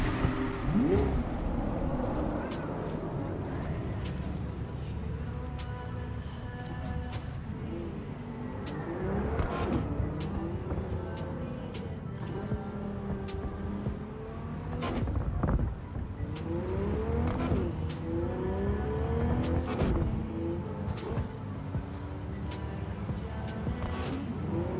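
Car driving in Cyberpunk 2077, with a steady engine drone and shifting pitch over a constant rumble, plus a few sharp transients along the way; fairly loud and continuous throughout, with no talking.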